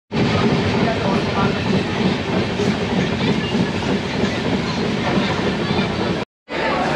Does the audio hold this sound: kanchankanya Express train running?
yes